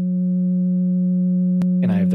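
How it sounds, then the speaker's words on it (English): A steady, loud sine wave tone from a modular synthesizer patch, holding a pure pitch alone before a voice starts talking over it near the end. "So I'll turn on my sine wave."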